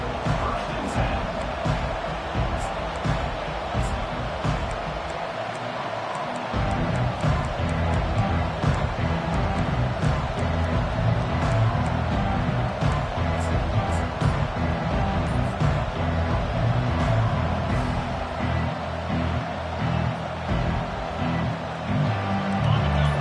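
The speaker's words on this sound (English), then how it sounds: "This crowd bringing an ear-splitting welcome to their visitors." A packed football stadium crowd roars a loud, sustained welcome for the visiting team, a dense unbroken wall of cheering throughout.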